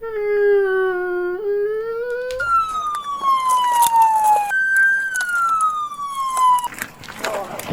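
A loud, close police siren wails, its pitch stepping and sliding between tones, with traffic noise and a rising rush toward the end.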